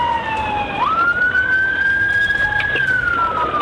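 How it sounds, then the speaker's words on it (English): A police car siren wails during a high-speed pursuit, a loud close tone that holds and then sweeps through its pitch over steady road noise, with no talk. "officers activated their lights and siren"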